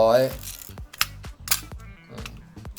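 A Nikon FM2 film camera's shutter fires during a speed test: several sharp, close mechanical clicks at uneven intervals, with a voice briefly at the start.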